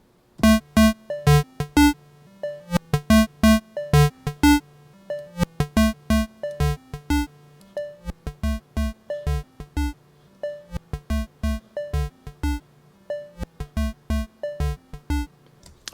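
A synthesized electro drum loop with modulated kick and snare, programmed in a software synth: punchy, dry, clean hits in a repeating pattern of tight rhythmic bursts with tonal pitched layers, played alone without any voice.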